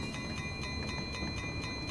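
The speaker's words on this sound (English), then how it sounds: "it looks like we got ourselves another train I'm gonna have to deal with" A train in Train Valley gives a steady rolling rumble with a regular clicking pulse, several beats a second, and faint tonal whines above, continuous and fairly loud throughout, with no talking.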